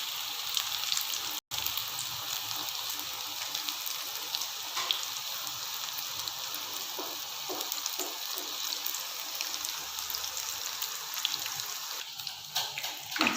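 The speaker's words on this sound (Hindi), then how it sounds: "एक साइड को 5 मिनट हम फ्राई करेंगे" Chicken chapli kebabs frying in a pan over a low flame, a steady, even oil sizzle that runs close and constant throughout, with no talking.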